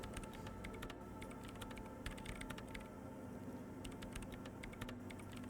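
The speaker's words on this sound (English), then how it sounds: "The woman is still hunched over the keyboard, gently illuminated by the purring machine." In the video game Disco Elysium, a woman types on a computer keyboard. Quick, light key clicks run steadily over a constant low machine hum and ambient background.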